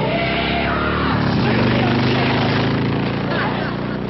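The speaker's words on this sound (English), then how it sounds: "Some crazy kid is racing up down your driveway on a motorcycle." A motorcycle racing up and down a driveway, its engine droning steadily with a rising whine mixed under voices and a background music score, in an old sitcom scene.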